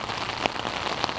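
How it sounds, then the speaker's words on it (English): Heavy rain pouring onto a street, a dense continuous patter of drops hitting pavement, close and steady with a couple of sharper splashes. "Stand in the street while it's pouring outside."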